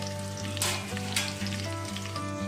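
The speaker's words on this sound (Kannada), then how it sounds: "ಎಣ್ಣೆಗೆ ಹಾಕ್ಕೊಳ್ಳೋದು ಹಾಕ್ಕೊಂಡು ತಕ್ಷಣ ಈರುಳ್ಳಿ ಹಾಕೊಬೇಕು" Onions sizzle in hot oil in a pan while egg biryani is cooked, a loud, continuous close-up frying hiss with a few brief stirring scrapes and no talking.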